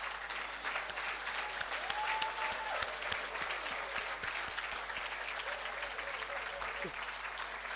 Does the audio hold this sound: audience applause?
yes